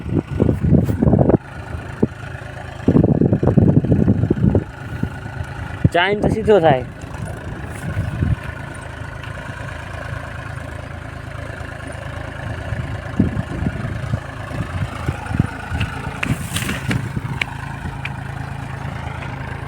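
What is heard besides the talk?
tractor engine running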